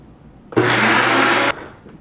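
A kitchen blender whirs through peach and banana, a sudden loud steady motor roar lasting about a second before cutting off sharply, with quiet before and after.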